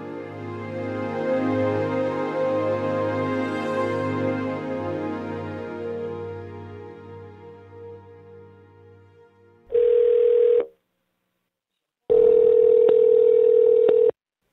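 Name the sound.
telephone dial tone and dialing a call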